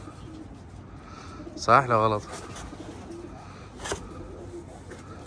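A pigeon or dove gives a short cooing call, fairly close, amid a steady background hum while someone speaks briefly; a second faint burst follows a couple of seconds later.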